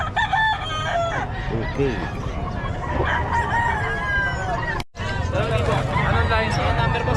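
Several quality roosters crow repeatedly at a busy gathering, loud and close, over steady crowd chatter and nearby talking voices.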